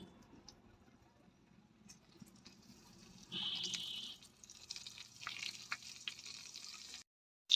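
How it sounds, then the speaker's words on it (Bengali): Eggplant slices rubbed with salt and turmeric fry in hot oil, giving a soft crackle early on that swells into a steady, bright sizzle with scattered pops for a few seconds before cutting off. "বেগুনটা আমি হালকা করে দু পিঠে ভালো করে ভেজে নিলাম।"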